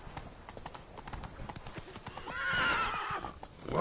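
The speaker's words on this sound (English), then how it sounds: "Whoa there, Roach." Hooves of the horse Roach clip-clop at a gallop in a video game, steady and close, until a loud whinny rises near the end, with the steps continuing afterward.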